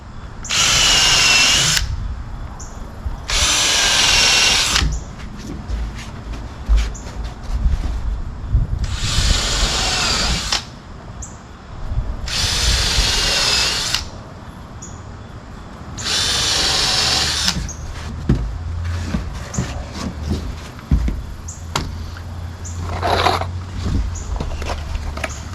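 Power drill driving screws into the frame of a privacy wall on a deck, five separate whirring bursts of a second or two each, loud and close, with quieter handling noise in the gaps between them.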